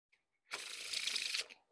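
A deck of Theory11 Moooi Extinct Animals playing cards is spread into a wide fan, giving one continuous papery rasp of about a second that starts abruptly and fades, close and alone after a faint click.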